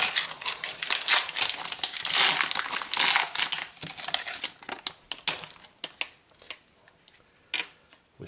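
A Panini Donruss FIFA World Cup 2026 trading card pack being opened, loud close foil crinkling and tearing for several seconds, then sharper intermittent snaps and rustles as it quiets.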